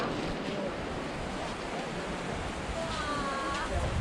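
Continuous broadband rushing of a river along the Riverside Walk in Zion National Park, Utah, steady and close, with faint higher tones drifting over it.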